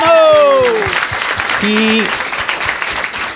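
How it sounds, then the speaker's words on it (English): Audience applause at a live podcast event at LAPodfest, loud dense clapping filling the room throughout, with a voice speaking over it partway through. "Can we give him a round of applause?"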